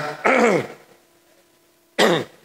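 Two loud, close bursts of a person clearing their throat and coughing, separated by a short quiet pause.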